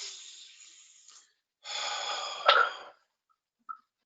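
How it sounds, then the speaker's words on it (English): Slow, deep breaths during a guided emotional session: a long exhale that fades out, a pause, then a fuller airy breath ending in a brief catch, followed by a faint short puff. "Yeah, and breathe."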